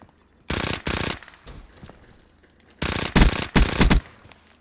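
Two sustained bursts of suppressed fire from a Pharaoh rifle in Black Ops 3 gun game multiplayer, each roughly a second long, close and loud with quiet gaps between.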